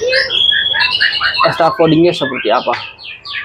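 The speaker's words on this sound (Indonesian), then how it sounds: "saya hadirkan secara langsung murai batunya" A white-rumped shama (murai batu), a tame songbird, gives bright, varied chirps and whistled phrases close by, mixed with someone talking over much of the song.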